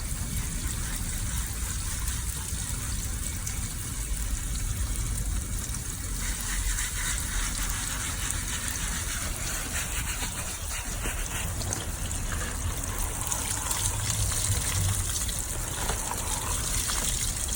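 Water gushes steadily over a western saddle as it is rinsed, a continuous broadband splashing and running that holds at an even level for the whole stretch with no talking.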